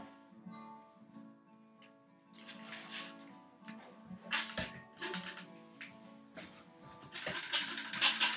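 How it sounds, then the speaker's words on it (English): A clamp being tightened onto a wooden block during a carpenter's tool chest restoration, a series of quiet ratcheting clicks and gear-like ticks in irregular bursts, close and faint, with no talk. "I'm going to clamp a block on the other side."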